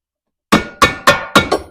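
Four hard metallic hammer strikes on u-joint caps of a 2009 Chevy 2500HD, spaced about a quarter second apart with a lighter fifth tap, close and loud after a moment of silence.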